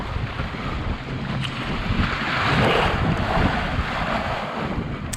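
A Drascombe Lugger sails south on a swell with the wind behind, off North East Scotland. Waves wash and slosh against the hull under a steady wind rush, loud and continuous, with no talk.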